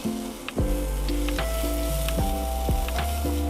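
Crushed whole coriander, black pepper and cumin dropped into hot oil for a tempering with ginger-chili paste, sizzling steadily with bright crackling and a few light stirring scrapes, close and continuous with no voices.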